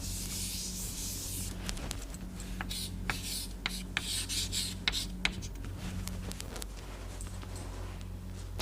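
Chalk or marker scratching and tapping across a board during a lecture on oxidation kinetics, a series of short rubbing strokes with sharp taps over a steady low hum, no voices.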